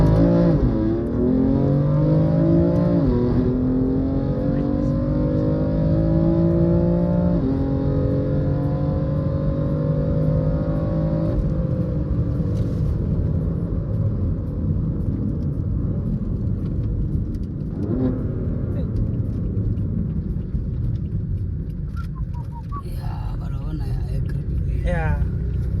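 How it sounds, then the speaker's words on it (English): From inside a BMW M3 F80, a deep engine and exhaust drone rises and falls with gear changes, loud and steady throughout. "let's listen to how good the exhaust note is when you're inside the cabin"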